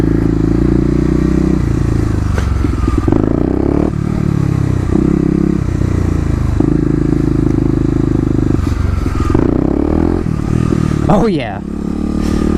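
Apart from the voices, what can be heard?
Kawasaki KLX250 motorcycle shifting gears and accelerating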